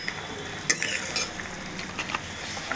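Spoon gently stirring crab green masala with pepper powder in a frying pan, a soft scrape and clink over a continuous low sizzle, close and quiet.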